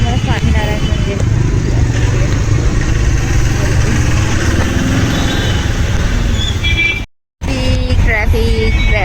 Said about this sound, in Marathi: पुन्हा ट्रॅफिक लागली आहे.